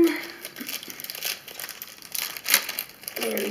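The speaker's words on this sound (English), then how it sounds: "Let's rip them open." Plastic LEGO Nexo Knights packaging is torn open close up, giving continuous crinkling and ripping of thin plastic with a sharper tear near the end.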